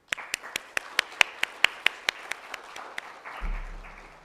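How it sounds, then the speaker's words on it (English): Applause at a digital finance conference session: a string of about fifteen evenly spaced, crisp claps, fairly close and distinct rather than a dense crowd roar, ending in a low hum. "could we please have a big round of applause for Raghav, sir?"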